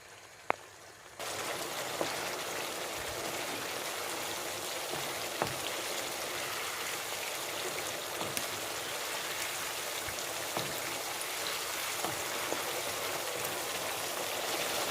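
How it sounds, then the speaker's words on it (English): Tomato pasta sauce simmering in a pan, a steady close bubbling and hissing wash with occasional faint pops and ticks throughout. "I'm going to now lower the heat and allow this to simmer for 5 minutes."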